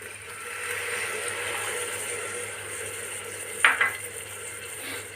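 Mutton gravy sizzles softly in a pan over a high gas flame while being stirred, a steady faint hiss with one brief scraping clatter of the spoon near the end.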